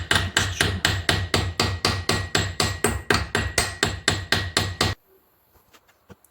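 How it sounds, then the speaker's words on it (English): A titanium pen barrel is hammered for texture with a fast, even run of about twenty loud, close metallic strikes that stop abruptly, leaving near silence with a couple of faint knocks. "And also hammering it for the texture."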